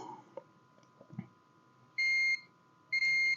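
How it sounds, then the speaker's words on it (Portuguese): Two short electronic beeps from a multimeter on continuity test detecting a short circuit on a phone circuit board, bright and steady tones, sounding after a few faint clicks and handling noises in a quiet room. "Ó, aqui tem mais outro bipando curto."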